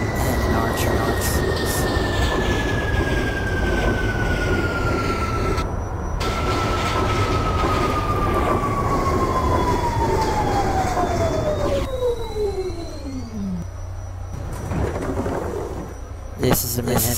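A simulated New York subway Q train on the Sea Beach local line running steadily, with a rumbling roar and a long falling motor whine as it slows. Other tonal whines and squeals come and go, and an announcement voice briefly interrupts.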